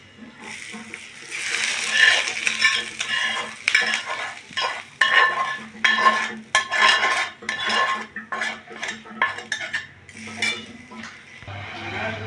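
Ingredients going into hot ghee for Bengali-style fried rice, producing a sizzle with repeated metal spoon scraping and clinking against the pan in an irregular stirring rhythm, fairly close and loud, without speech.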